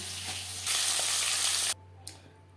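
Onions fry in a pan, with a soft sizzle that briefly swells into a loud hiss for about a second before dropping back to a quiet simmer, heard close with no voices.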